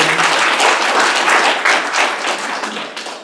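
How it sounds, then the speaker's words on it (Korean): Loud, dense applause from a crowd at a pre-ceremony event, many hands clapping steadily, close and full, tapering slightly toward the end. "다시 한번 박수 주세요"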